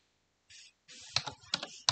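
Keys tap on a computer keyboard while a website title is typed: a short pause, then a quick burst of distinct, close clicks in an uneven rhythm.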